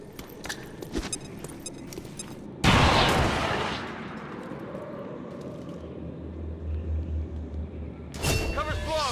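A frag grenade explosion in the XCOM 2 video game, one loud booming blast with a long rumbling decay, set between scattered gunfire and short shots, with voices talking over it.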